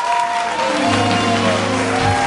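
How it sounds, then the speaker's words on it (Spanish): A studio audience applauds a band at a Mexican interview show, steady clapping mixed with crowd noise and a held musical tone from the band underneath. "Un aplauso para esa banda maravillosa, por favor."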